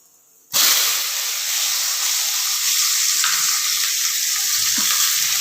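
Shallots and urad dal frying in hot oil while making a coriander-mint chutney, a loud steady sizzle and hiss that bursts in suddenly and holds evenly throughout, with faint stirring clinks.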